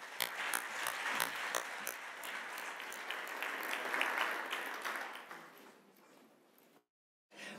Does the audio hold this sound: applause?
yes